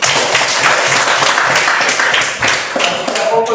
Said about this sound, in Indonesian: Kita berikan aplaus lagi.